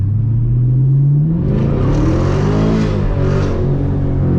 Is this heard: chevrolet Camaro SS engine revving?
yes